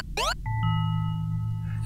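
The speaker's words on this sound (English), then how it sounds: "That's the confusion bell." A confusion bell in the video game Astrocreep rings out as a clear sustained tone with a bright ding, after a brief rising chirp, and hangs steadily to the end.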